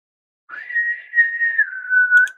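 Boatswain's whistle sound effect, a single sustained shrill pipe tone lasting about two seconds that holds level and then dips slightly before a brief trill at the end, heard alone.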